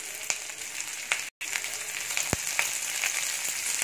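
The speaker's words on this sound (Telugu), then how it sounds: "ఇది లైట్గా డీప్ ఫ్రై అవ్వాలి" Onions, green chilies and curry leaves fry in hot oil in a pan for beetroot sambar, giving a steady, dense sizzle close by with occasional sharp pops and crackles and no talking.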